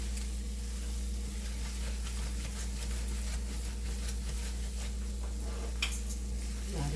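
Carrot halwa cooking in ghee in a pan, a steady close sizzle under repeated scraping stirs, with a brief clink near the end and no talk.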